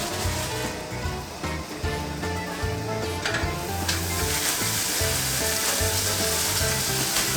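Large slices of ham, torn in half for a Monte Cristo sandwich, fry in a hot pan beside French toast, a loud, steady sizzle that continues close up with no break.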